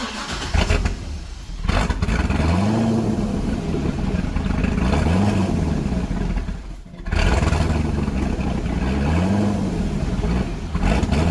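A C6 Corvette V8 with a swapped camshaft runs at a rough, lumpy idle, loud and close, its uneven rhythmic loping broken by a brief dip before it surges back and keeps hunting unsteadily.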